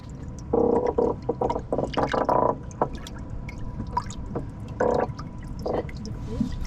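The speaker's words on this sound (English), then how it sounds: "that's the croakers doing croaker things" Croaker fish left in water inside a boat give off low, buzzy croaking bursts. Some come in quick rhythmic clusters and others stand alone, with watery drips and gurgles between them and no voices.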